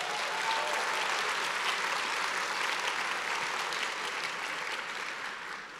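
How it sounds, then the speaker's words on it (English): Conference audience applauding, a dense, steady wash of many hands clapping that fades slightly toward the end, with no voices over it. "Give them a round of applause."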